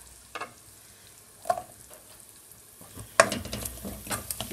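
Spring onion whites frying in a pan for chicken Manchurian, with soft sizzling, a few sharp clatters of stirring, and a louder run of scraping and sizzle toward the end.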